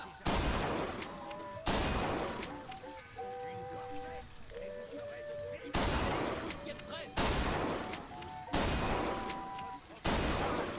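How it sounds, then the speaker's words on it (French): Rifle shots ring out from a first rifle, with about six loud, sharp cracks spaced a second or two apart, each followed by a short decay, over a faint outdoor background. "C'est votre tout premier fusil."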